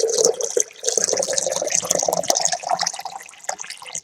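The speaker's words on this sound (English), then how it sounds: "Just refilling the water tank there," Water from a tap runs steadily to refill a water tank for young chicks, a close splashing and trickling stream that goes on throughout with small shifts in flow.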